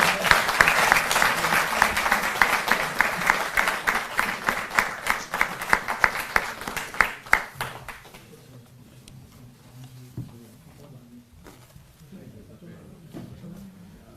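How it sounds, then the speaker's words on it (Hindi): Loud audience applause at an official Delhi government compensation event fills the first seven seconds with dense clapping, then fades out, leaving quieter room noise and faint voices. "जोरदार तालियां"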